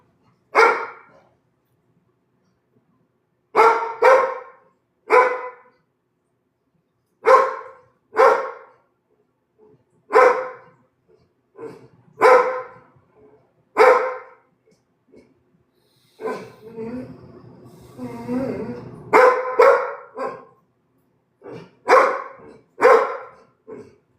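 A dog barks in repeated loud bursts of two or three sharp woofs, separated by short pauses, with a stretch of softer whining and movement midway through.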